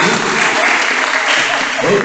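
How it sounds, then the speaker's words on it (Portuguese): Congregation applauding in a church during a novena homily, steady dense clapping filling the whole space, loud and continuous with some voices mixed in. "uma salva de palmas para ele."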